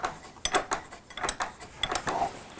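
Metallic clicks and ratcheting from a tool undoing the nut on a Yamaha MT07 front fork, a string of sharp, irregular close-up clicks with short pauses.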